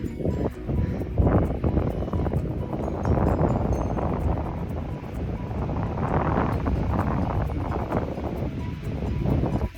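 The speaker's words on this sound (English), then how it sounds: "I don't know if you can tell how windy it is" Strong wind buffets the microphone on a mountain trail on the Appalachian Trail in a steady, dense roar that rumbles low and gusts throughout, with no voices.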